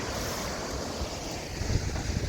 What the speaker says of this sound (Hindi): बहुत ठंडी हवा चल रही है यहाँ पे